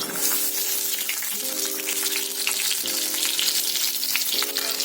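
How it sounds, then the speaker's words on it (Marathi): Eggs frying in hot oil in a pan, a steady dense sizzle and crackle running throughout with no talk, fairly close and even in loudness. "आता आपण अंडी फ्राय करून घेऊया।"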